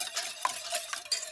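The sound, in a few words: stirring milk bread dough ingredients together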